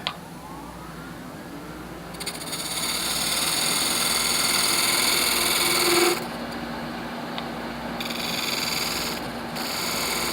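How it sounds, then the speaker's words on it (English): A wood lathe spins a small turned box while a skew chisel, held flat like a scraper, is pushed gently into it, giving a steady whirring hum with a brighter hiss of cutting in the middle of the clip, and no speech. "I've got the skew flat on the tool rest, and I'm just using it like a scraper, just pushing it in gently."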